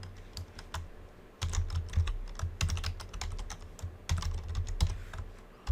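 Quiet, close clatter of a computer keyboard as a name is typed, irregular bursts of keystrokes with brief pauses, no talking.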